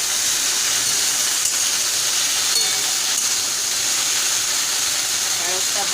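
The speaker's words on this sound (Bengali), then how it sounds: "ঢেঁড়সটা ভাজা হয়ে গেলে আমি ফিরে আসছি।" Okra fries in oil in a pan, giving off an even, unbroken high hiss throughout, with a few faint ticks scattered through the steady sizzle.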